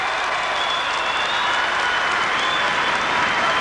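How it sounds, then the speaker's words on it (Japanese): Dense, loud audience applause fills an arena after a men's long program at the 1981 European Figure Skating Championships, a continuous roar of many hands with no pauses. "大変な拍手が起きておりますけれども"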